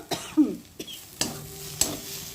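A spatula stirs thick yardlong bean paste in a wok, giving a few soft scraping strokes and light sizzling, close and fairly quiet, with no talking.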